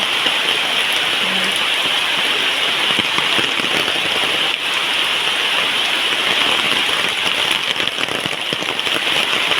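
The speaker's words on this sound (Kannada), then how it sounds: "ಈ ಮಳೆಗೆ ನೋಡಿ ಎಷ್ಟು ನೀರು ತುಂಬಿದೆ" Steady rain pours down on an areca nut plantation, a dense, continuous hiss of drops hitting leaves and ground all around, with no voices.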